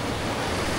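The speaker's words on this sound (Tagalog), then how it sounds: "lakas ng alon" Strong ocean surf churns continuously against a rocky fishing shore, a loud broadband wash mixed with wind buffeting the microphone, with no voices over it.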